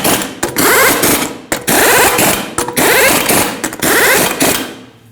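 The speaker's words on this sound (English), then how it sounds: "we're going to torque them to 98 foot-pounds" A torque wrench tightens lug nuts on a Nissan Frontier wheel in a cross pattern, giving four loud, close bursts of clicking and ratcheting separated by short pauses.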